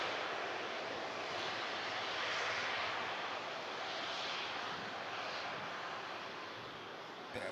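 Aircraft touching down at Manchester Airport, a faint, distant, broad rushing roar that swells slightly midway and then eases off.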